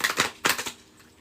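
An oracle deck of cards is shuffled by hand in a few quick riffling bursts, close and crisp, then it trails off into quiet with no talking.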